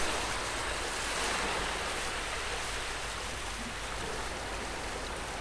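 Waves washing along a beach on the shore of the Saint Lawrence River, a dense, steady rush of water that stays loud and close without pause for the whole stretch, with no voices.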